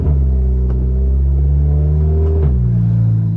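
A turbocharged MK6 GLI running a Garrett GT2260S big turbo idles with a loud, steady, deep rumble close by. Its pitch dips slightly near the end, and no one speaks.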